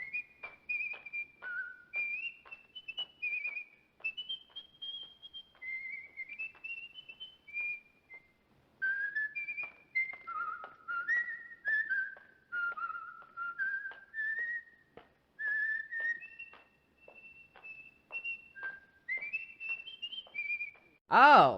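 A man whistles the bouncy polka melody "You Should See Me Dance the Polka" alone, clear and fairly close, with short rhythmic phrases and brief pauses between them.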